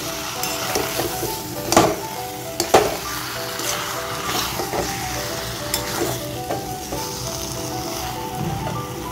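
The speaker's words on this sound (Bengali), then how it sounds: "4 মিনিট পরে আমি ঢাকনাটা খুলে দিচ্ছি। নাড়াচাড়া করে দেবো।" Rohu fish head curry (kosha) is stirred in a pan after simmering covered on low heat. A loud, steady sizzle is punctuated by a few sharp spoon knocks and scrapes, with no voices.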